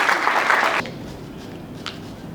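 An audience at a book launch claps in a brief burst of applause that stops abruptly, leaving quiet room tone and a faint sound afterward.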